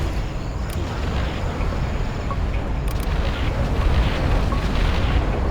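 A Scud launcher strike explodes in the real-time strategy game Command & Conquer Generals Zero Hour, a loud, dense, sustained rumbling blast that roars evenly for several seconds.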